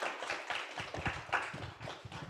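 Audience applause at an event, with a smallish crowd clapping in a steady, fairly close patter of overlapping hand claps.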